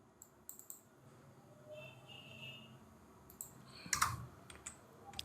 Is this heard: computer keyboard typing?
yes